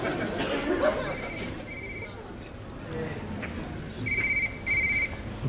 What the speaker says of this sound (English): Find the phone under your seat there that's ringing.